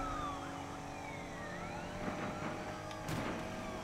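A wailing police siren sweeps up and down over a steady engine drone in the video game Need for Speed Unbound, with a couple of sharp crash-like bursts.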